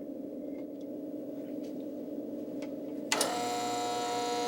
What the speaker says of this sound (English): Jim uses a bevel edger to custom cut the lens to the specific frames